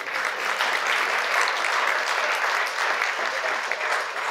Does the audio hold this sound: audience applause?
yes